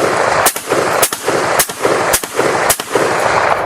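Russian semi-automatic rifle fired rapidly, six loud sharp shots at a steady, roughly half-second rhythm, each crack trailing into a brief echo, with no talking.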